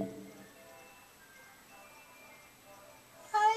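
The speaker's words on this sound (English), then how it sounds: "there's an ice cream truck outside my window" An ice cream truck's tinny, tonal jingle plays faintly outside a window, a thin repeating melody held steady for a few seconds before a louder voice cuts in at the end.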